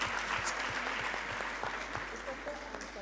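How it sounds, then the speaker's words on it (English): An audience gives a speaker applause at a university research day. Moderate, steady clapping carries over a low electrical hum while voices speak underneath. "Can we give her a round of applause once again?"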